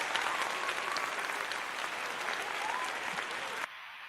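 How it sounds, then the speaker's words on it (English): Applause plays as a sustained burst of crowd clapping, loud and even, then cuts off abruptly near the end to a quieter room tone. "So, Danny, I'm going to give you an applause."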